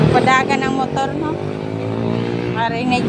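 A motorcycle engine revs loudly and close by on a busy street, its pitch rising and falling, with voices mixed into the traffic noise.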